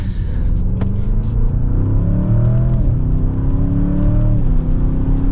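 A 2024 Audi S8 with its 4.0-liter twin-turbo V8 accelerating hard, the engine note rising and falling through two clear gear changes as a loud, steady drone heard from inside the car.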